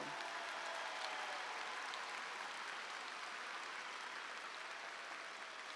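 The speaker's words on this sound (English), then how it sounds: "Please applaud for our award winners." An audience at a high school commencement applauds award winners, a steady wash of many hands clapping, distant and fairly quiet, continuing unbroken.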